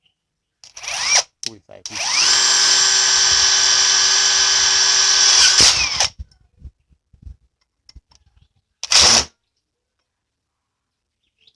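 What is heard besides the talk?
AEG impact wrench driving a nut in auto mode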